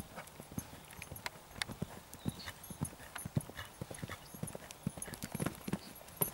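A horse's hooves clip-clop steadily during a riding and jumping session, a quiet but continuous run of soft irregular thuds with no voices over it.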